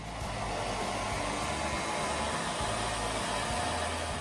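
A hair dryer blows to melt ice, a loud, steady, close-up rush of air that runs unbroken the whole time.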